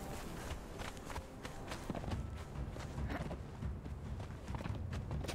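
Horse hooves clip-clopping in the video game Conan Exiles: quiet, steady rhythmic hoofbeats at a walking-to-trotting pace, with faint talk in the background.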